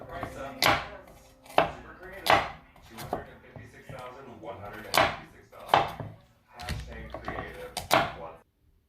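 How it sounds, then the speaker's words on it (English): Carrots are chopped with a knife on a board, giving about a dozen sharp, close knocks in uneven bursts separated by brief pauses. "now I'm going to cut up my carrots."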